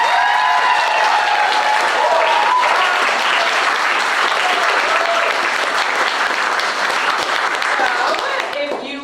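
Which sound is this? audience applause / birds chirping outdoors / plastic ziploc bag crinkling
audience applause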